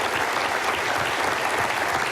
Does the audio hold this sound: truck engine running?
no